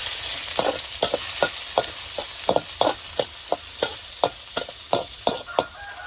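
Minced garlic and shallots fry in hot oil for canned fish chili paste, a steady close sizzle broken by about a dozen regular scraping strokes of a spatula across the pan.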